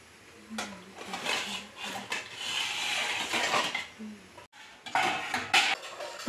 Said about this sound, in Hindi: मैं सारे ना बर्तन को अपनी जगह पर फिर रख दूँगी